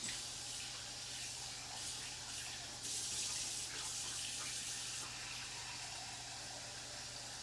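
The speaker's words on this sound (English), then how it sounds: "I'm gonna empty this water out and get us a new bath" Tap water runs steadily into a basin, filling a cool rinse bath for dyed doll clothes, a soft continuous hiss with a low hum beneath.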